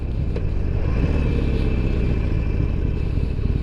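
A motorcycle rides around town at night, its engine a steady, close, low rumble with a faint clatter and no noticeable revving.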